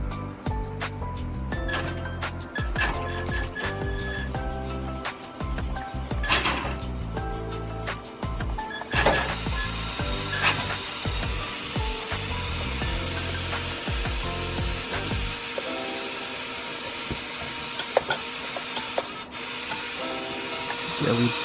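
A small RC car's electric motor and steering servo whir and grind with an odd rattling, mechanical noise, close and continuous throughout, with a steady whine toward the end.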